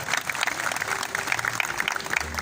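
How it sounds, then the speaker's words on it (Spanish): Applause from a festival audience rings out in a steady patter of many hands clapping, moderately loud and continuous with faint background murmur. "Creo que se merece otro fuerte aplauso, por favor, desde Concepción, todo lo que tuvo que viajar."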